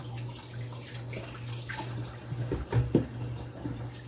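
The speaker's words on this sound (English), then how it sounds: "I'm going to wash my hand again" Tap water running while hands are washed in a kitchen sink: a low, steady flow with splashes and gurgles building in the middle, close by, with no talking.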